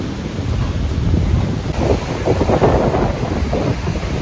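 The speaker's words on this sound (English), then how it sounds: "See how violent the sea right now." Rough monsoon sea at high tide along the Bandra shore, a continuous broadband roar of surf crashing and churning, mixed with gusty wind buffeting the microphone, loud and steady throughout with no voices.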